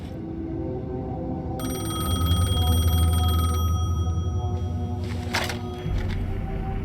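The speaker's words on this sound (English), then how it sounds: "The payphone was ringing." A payphone in a subway setting in the Alan Wake 2 video game rings with a bright, continuous electronic bell over a low ambient rumble, followed by a brief rustle.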